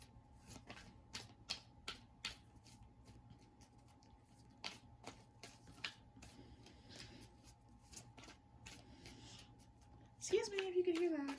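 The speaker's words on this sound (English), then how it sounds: "I'm shuffling, I promise y'all." Soft, irregular oracle-card shuffling taps and riffles, close by, with a steady low hum underneath and a brief voice near the end.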